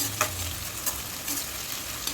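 Steady sizzling of onions frying in hot oil, with a few scraping stirs against the pan, no voices.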